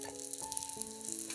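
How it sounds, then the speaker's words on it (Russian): Slices of white loaf bread frying in a little vegetable oil in a hot pan, a steady close sizzle with soft crackle and no talking, over tonal hum from the kitchen. "Подсушиваем батон с одной стороны до румяной корочки."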